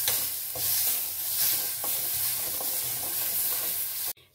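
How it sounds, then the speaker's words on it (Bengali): Ginger and green chili paste stirred in a frying pan, a steady sizzle with soft scraping strokes of a spatula throughout, ending abruptly near the close; no voices. "আর এখানে আমি একটু আদা বাটা দিচ্ছি, এতে আর আমি কিন্তু কিছুই দেবো না, আদার সঙ্গে একটা কাঁচা লঙ্কা পেস্ট করা আছে"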